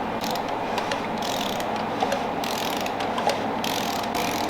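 An engine freshly assembled for a high school truck is turned over slowly by hand, giving a steady close mechanical ratcheting and clicking with faint metallic ticks over a low continuous rumble, with no clunks.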